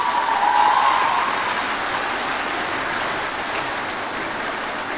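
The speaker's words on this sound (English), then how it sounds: "I believe they should be clapping for them." Dense, steady applause from a large audience at a youth leadership assembly fills the space evenly, a continuous wash of clapping that holds at a constant level without any pauses.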